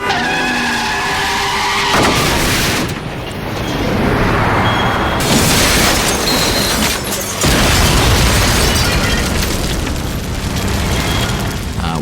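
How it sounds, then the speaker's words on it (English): A large pyrotechnic explosion staged for the Smallville TV series, with a vehicle launched by a cannon mount, booms loudly and keeps roaring as a dense, sustained blast and rumble with surges of debris noise throughout. "we had probably the largest explosion that we've had on Smallville"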